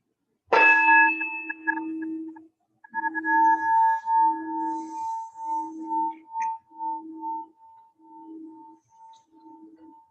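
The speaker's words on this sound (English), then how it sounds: "So I'm going to sound the bell" A Buddhist meditation bell is struck once, ringing bright and clear, then a steady series of soft rhythmic tones pulses on, slowly fading over several seconds.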